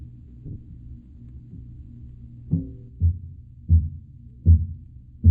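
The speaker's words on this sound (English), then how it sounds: "By pounding on them with those heavy sticks, the witch doctor sends out his message" Large talking drums pounded with heavy sticks boom in a slow, steady series of deep, resonant thuds that grow heavier after a soft muffled start, with no voices.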